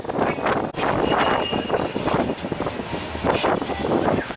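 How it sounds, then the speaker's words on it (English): Steady outdoor wind buffeting the microphone on a cold, rainy day, a loud continuous rush with gusty swells and no speech. "There's wind."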